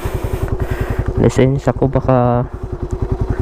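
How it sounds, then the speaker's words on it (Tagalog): A Raider 150 motorcycle idling in the dark before dawn, its engine putting out a fast, steady putter with even pulses all the way through, close by, while someone talks over it. "So yung motor, pinaandar ko na nandun."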